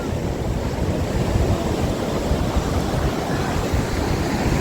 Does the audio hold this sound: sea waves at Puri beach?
yes